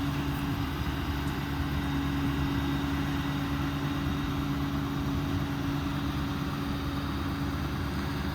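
A 2022 Ford F-550 mechanics crane truck, 4WD with an IMT 7500-pound crane, runs at wide open throttle, its engine holding a loud, constant, even drone with a low hum throughout and no talking.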